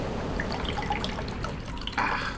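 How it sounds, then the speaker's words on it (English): Water trickles and drips steadily into a glass, a close, small liquid pour that ends in a brighter splash of filling. "Excuse me for a second while I pour myself some water."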